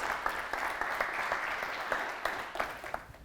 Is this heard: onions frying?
no